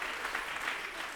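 Steady, dense applause from a crowd fills the whole short moment, loud and continuous without a break.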